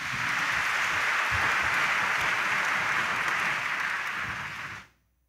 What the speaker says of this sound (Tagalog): pumalakpak po tayo ng malakas at iparinig natin sa Kanya